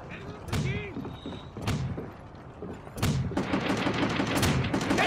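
Gunfire in the World War II shooter Call of Duty: World at War, with single shots and bursts cracking out over battlefield noise, ending in denser firing, and voices shouting amid the action.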